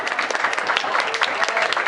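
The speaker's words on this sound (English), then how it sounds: "So big applause for Podcast who spent so much time for the community." A crowd at an adventure game fan party breaks into brief, loud, close applause, a dense burst of clapping with a few cheers, lasting under two seconds.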